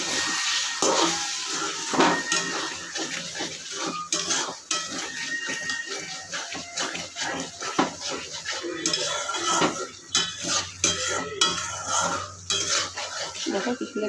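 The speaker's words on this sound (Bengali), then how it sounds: "এবার আমি দিচ্ছি লঙ্কা বাটা জলটা এটা কষিয়ে ফেলো" Chili paste thinned with water is stirred and worked in a pan while cooking a taro dopiyaza. A metal spoon keeps clinking and scraping against the pan, close and busy for the whole stretch, with a light wet sizzle underneath.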